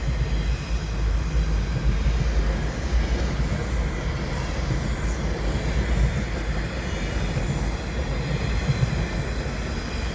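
In winter, a CP freight train with a Union Pacific DPU locomotive rolls past in a steady, heavy low rumble that stays constant from start to finish, with no voices.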